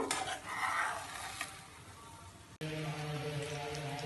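An egg and potato dish fries in a covered pan, giving a soft steady sizzle that fades, then returns louder and hissier after a brief cut, with no talking.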